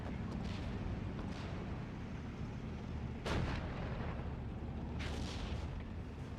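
Artillery barrage in the World War II strategy game Steel Division 44: a dense, continuous rumble of distant firing with one sharper boom near the middle and another burst toward the end.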